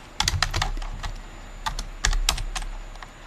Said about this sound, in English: My typing is going to be bad today because I hurt my wrist